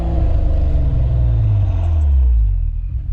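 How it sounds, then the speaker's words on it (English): The turbocharged engine of a Cadillac ATS-V is loud and close, a deep sustained rumble that rises and holds for about three seconds, with no voices. "One more time, let me hear the turbo."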